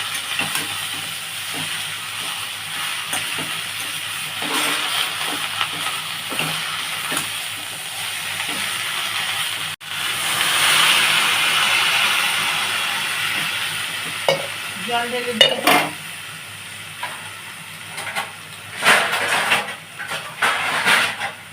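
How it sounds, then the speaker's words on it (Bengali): Ivy gourd leaves sizzle and hiss in oil in a pan while being stirred, a steady close frying noise with a louder steamy burst midway and scraping stirring strokes toward the end. "একটু নেড়ে নেবো আমি চারাকুচি পাতাটা"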